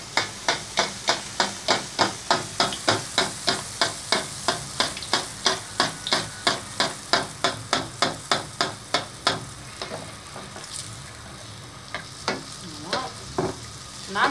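Kabyle sfenj dough frying in hot oil, with a close, steady sizzle broken by quick rhythmic splashes about three per second for nine seconds, then a softer, uneven bubbling with no talk.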